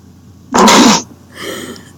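A single loud sneeze bursts out, followed by a softer exhaled tail, with near silence around it.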